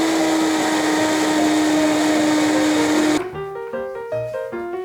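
A kitchen blender runs loudly with a steady high whine for about three seconds, then cuts off abruptly, leaving a soft musical tune playing.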